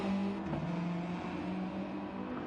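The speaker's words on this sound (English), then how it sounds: "Lovely sounding car, the Subaru there." A Subaru GT3 race car in a sim racing game, driving downhill at night, gives a steady, loud engine drone with a rich tone and slight pitch shifts, heard alone and close throughout.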